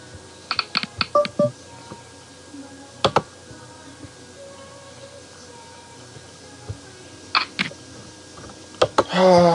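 Computer keyboard typing in short clustered bursts of clicks with pauses between, close and moderately loud, set against a quiet background during a poker commentary session.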